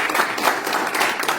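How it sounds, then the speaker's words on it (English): An audience at an international United Nations conference gives a brief, full round of applause, many hands clapping densely and evenly at close range. "we give that one more round of applause"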